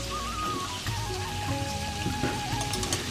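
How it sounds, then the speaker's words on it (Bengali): Marinated meat for biryani fries in hot oil, making a steady rain-like hiss with faint patters close by under a soft tonal background, and no one speaks. "মাংসগুলো এপিট ওপিট নাড়িয়ে নিচ্ছি যাতে লাল লাল ভাজা হয়।"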